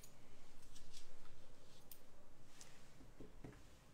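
Scissors snip through paper, a run of faint, quick rhythmic cuts heard up close in a quiet room as a doodle sheet is cut in half.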